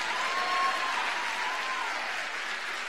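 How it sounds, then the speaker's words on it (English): Students at a school assembly clap together, a soft, steady patter of many hands heard from some distance that holds evenly and fades slightly toward the end. "Everybody clap for the black man."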